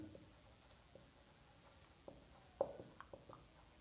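Pen scratching across paper while maths inequalities are written out, faint short strokes and taps spread over a few seconds in a quiet room, with no talking.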